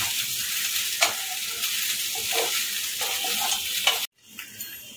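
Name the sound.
gently stirring poha with peanuts in a frying pan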